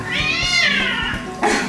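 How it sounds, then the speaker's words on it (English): A pet cat gives a long, drawn-out meow, loud and close, with a shorter second cry at the end, heard alone in a home kitchen. "That's my cat."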